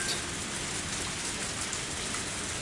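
Steady, even rain hiss throughout in the Higurashi game scene, a dense, constant wash of falling drops with no voices.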